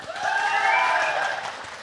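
A live-show hall audience breaks into sustained applause at a televised singing competition, a dense and steady wash of clapping heard close and fairly loud for just under two seconds.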